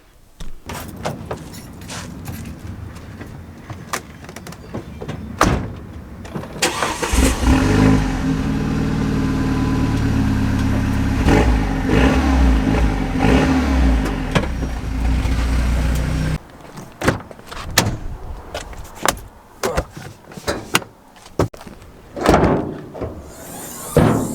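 A Renault Megane RS engine starts and runs loudly up close for about ten seconds, then cuts off. Door clunks and handling knocks are heard before and after.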